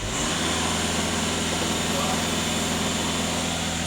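A VW Caddy 2.0 TDI EA288 diesel engine idles steadily, close and loud, as a constant low rumbling drone with no breaks.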